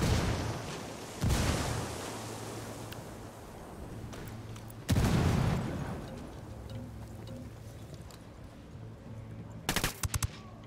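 Frag grenades burst in a Ghost Recon firefight in a Bolivian jungle province, two loud heavy blasts a few seconds apart with decaying rumble, followed by a quick volley of close gunfire.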